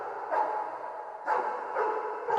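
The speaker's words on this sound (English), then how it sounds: "adding in additional ambience cues, one of which being a dog barking outside" A dog barks outside as ambience in the horror video game FNAF 4: three faint, distant barks spaced over a quiet, hollow background.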